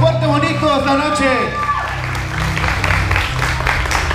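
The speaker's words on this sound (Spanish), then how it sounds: "Y que se escuchen fuerte los aplausos, pero fuerte bonito esta noche." Guests at a quinceañera dance party burst into applause and shouts, loud and close, joining the tail of a voice before settling into steady clapping mixed with cheering.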